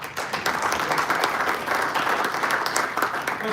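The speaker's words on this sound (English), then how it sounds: "Let's have a big round of applause for our panel tonight." Audience applause after a panel discussion at a building and realty membership meeting: a steady, dense wash of many hands clapping, loud and continuous throughout.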